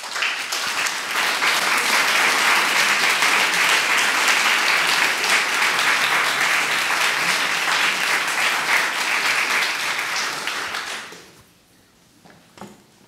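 Lecture audience at a Dia art talk applauding to welcome artist Charles Gaines: dense, steady clapping from a full room for about eleven seconds, then fading quickly to a few scattered claps and quiet.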